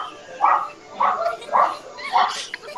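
A dog in an anime episode of Love Live Sunshine gives four evenly spaced barks, moderately loud and close, with faint background sound between them.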